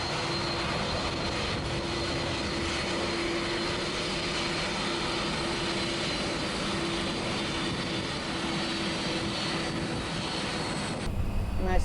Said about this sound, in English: Nice plane coming in.